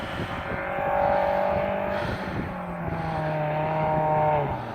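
A rally car at Rally Colorado 2018 roars past toward the finish line, its engine holding a loud, steady high drone that dips between gear changes and swells again as it passes.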